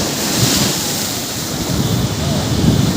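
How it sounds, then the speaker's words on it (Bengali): Surf at Kuakata sea beach near the marine drive block area swells with the incoming tide, a continuous loud wash of breaking waves mixed with gusty wind noise on the microphone. "জোয়ার আসছে তো আস্তে আস্তে ঢেউ বেড়ে যাচ্ছে।"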